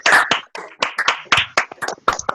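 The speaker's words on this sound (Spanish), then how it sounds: "Le vamos a dar un aplauso grande a Edwin" Scattered hand claps from a small group applauding guest Edwin García at a youth football talk, sparse and uneven bursts rather than a full ovation, close and fairly loud.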